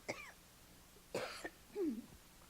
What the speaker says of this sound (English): Excuse me, residual cough.